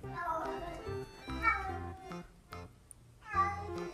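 A house cat meows several times in short, separate calls spaced a second or so apart, fairly close and clear, with a person talking quietly in between.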